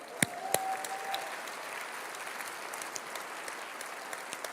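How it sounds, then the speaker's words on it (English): An audience at the Liberal Democrats party conference breaks into applause, a dense steady clatter of many hands with a few sharper claps near the start, heard from a distance and fading slightly. "Yes, come on, let's give them a cheer."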